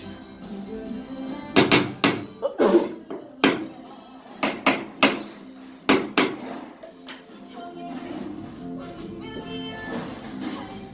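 A hammer taps tiles during tile installation in a building remodel, sharp close knocks coming in irregular clusters with pauses between them.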